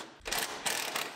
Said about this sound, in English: I can unbolt the fender from the firewall.